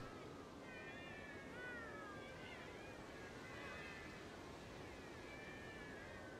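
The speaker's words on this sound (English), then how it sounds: "Wow, look at all these cats." A crowd of cats in the video game Bravely Second meows in overlapping, wavering calls over a steady bed of hissing background noise, moderately faint and continuous throughout.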